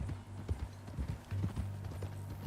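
Horse hooves clip-clop steadily on the ground in Red Dead Redemption 2, a close, rhythmic walking gait with a brief snort or whinny mixed in and no talk over it.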